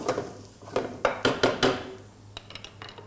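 Beef bacon, fatty rib meat, cooks in a pan with butter and garlic, giving a soft sizzle broken by several sharp clinks and scrapes of a utensil against the pan, close and fairly loud.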